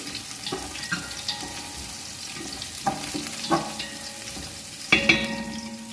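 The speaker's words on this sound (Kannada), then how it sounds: "ಕಾದಿರುವ ಎಣ್ಣೆಗೆ ಬೆಳ್ಳುಳ್ಳಿ ಹಾಕ್ಕೊಳ್ಳಿ ಸ್ವಲ್ಪ ಫ್ರೈ ಮಾಡಿ" Garlic dropped into hot oil and fried in a pan for dry paper chicken, a steady low sizzle with a few sharp clinks and scrapes from a utensil, heard close and alone.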